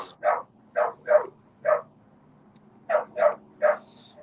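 A dog barks in short bursts, three or four quick barks, a pause, then three more, moderately loud and close with no talking over them.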